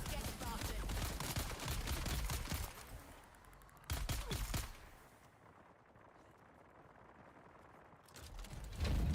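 Gunfire in the survival game Dune: Awakening, bursts of rapid shots up close in the first few seconds and again near the middle, then a quieter stretch before loud firing resumes at the end.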